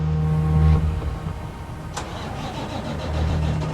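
A recovered tanker truck's engine cranks and catches, then settles into a steady mid-pitched idle, heard up close with a brief click partway through and no talking.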